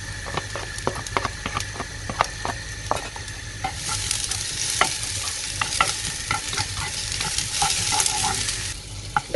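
Garlic, added after ginger, fries in a pan with a continuous sizzle that swells partway through, while a utensil makes frequent sharp clicks and scrapes as it stirs.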